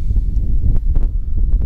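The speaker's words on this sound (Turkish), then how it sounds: "Rüzgar bayağı sertleşti şu anda." Strong gusting wind buffets a small camera GPS drone in flight near high-voltage lines, a loud low rumble of wind noise with brief broadband bursts.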